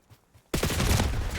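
Gunfire in the Black Ops 6 video game, a sudden loud burst of rapid automatic shots after a brief quiet moment, continuing steadily to the end.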